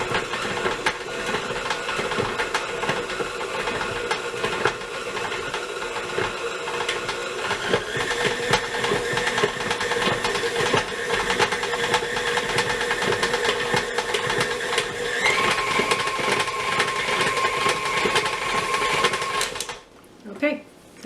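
An electric mixer beats cookie dough for a Valentine sandwich cookie made with mascarpone cheese, running as a steady close whirring drone that shifts slightly in pitch partway through, then cuts off near the end.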